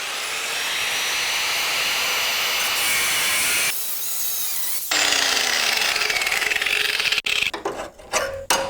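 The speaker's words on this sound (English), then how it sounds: "So I'm gonna cut it off while the piece is there." Power tool cutting excess metal from a car rocker panel, a loud continuous high whine that briefly drops away, then resumes and ends in rough choppy grinding.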